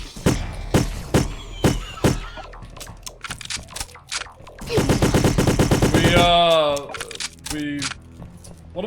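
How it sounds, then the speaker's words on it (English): Gunfire in the Russian shooter game Kreed, fired at insectoid aliens: several separate loud shots, then a dense stretch of rapid fire with chirping game sounds, and a voice talking between and over the shots. "We're shooting insectoid aliens."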